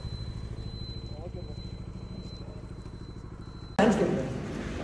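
A motorcycle engine chugs steadily at low speed while being ridden over to park in the shade, then a loud burst of wind or handling noise takes over near the end; someone talks over it.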